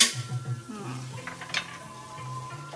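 Tofu pot being stir-fried in a wok with minced pork and garlic: a spatula scrapes and clatters against the metal over a continuous sizzle, close and busy, with a sharp knock midway.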